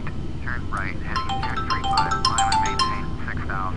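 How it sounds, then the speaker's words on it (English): A mobile phone ringtone plays a short run of repeating electronic tones, heard under a man reading out air traffic control instructions during a flight simulator session. "That's my phone."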